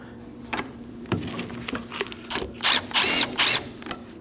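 A power tool snugs the nut on a Kia Optima rear shock with several short, loud whirring bursts near the end, after some light clicks and handling noises.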